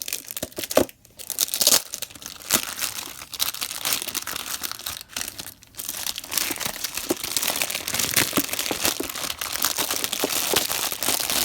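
Packaging for a Moterm planner being unwrapped, close crinkling and tearing of paper and plastic in irregular bursts, fairly quiet with no talking.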